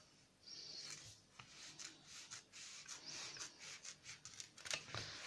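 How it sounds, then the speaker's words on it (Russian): Scissors cutting a petal shape from a thin isolon foam sheet for a large craft flower, a series of faint, close snips and rubbing crunches spread irregularly over several seconds, with no talking. "по этой линии я вырезаю первый лепесток"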